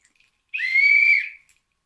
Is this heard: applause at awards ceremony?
no